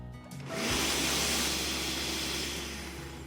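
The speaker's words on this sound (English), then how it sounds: "So fill up the blender and then blend until smooth." A blender purées tomato basil soup. After a short quiet start, the motor kicks in and holds a loud, steady whirring roar that eases slightly toward the end.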